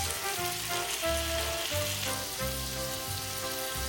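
Onions and tomatoes fry on a high flame with ginger and salt for a vegetarian momo soup, giving a steady, close crackling sizzle with no talk.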